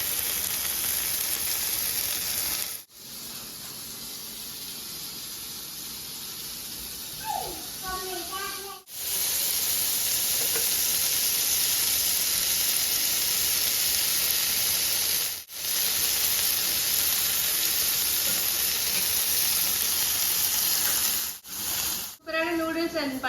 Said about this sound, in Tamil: இப்போ எண்ணெய் சூடானதுக்கு அப்புறமா இந்த ஸ்கியூவர்ஸை பிளேஸ் பண்ணிடலாம். நல்லா 2 பக்கமும் ஃப்ரை பண்ணி எடுத்தா போதும்